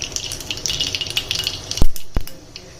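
Mustard seeds crackle and sizzle in a spoonful of hot oil, tempering for a South Indian chutney served with idli. A continuous close hiss runs throughout, punctuated by a couple of sharp utensil knocks near the end.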